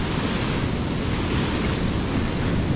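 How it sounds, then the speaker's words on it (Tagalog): Storm-driven sea waves surge against the Dipolog boulevard seawall during a typhoon, a loud, steady roar of crashing surf mixed with gusting wind noise, with no voices. "Talagang susubukan pa rin akyatin ng dagat ng alon itong boulevard"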